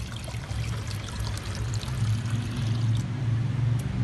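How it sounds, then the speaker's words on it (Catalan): Water pours steadily into a container, filling it partway, making a continuous rushing, burbling flow that grows slightly fuller toward the end. "Per començar hem d'omplir el recipient amb aigua"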